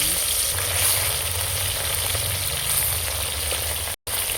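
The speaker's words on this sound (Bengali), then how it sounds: "তেল গরম হয়ে গেছে মাছগুলো ভেজে নেবো" Small whole puti fish fry in hot mustard oil in a wok, giving a steady, dense sizzle that runs unbroken and close, cut only by a brief silent gap near the end.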